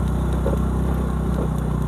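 A scooter engine runs steadily during an off-road ride on a rough mountain trail, a continuous low throb with rattling vibration, fairly close and alone.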